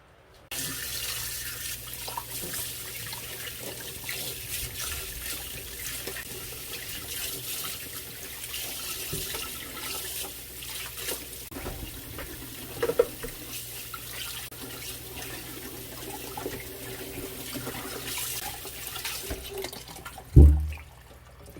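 Tap water running steadily into a pot to boil freshly harvested corn, a continuous close splashing stream lasting about twenty seconds with a louder clunk near the end and no speech.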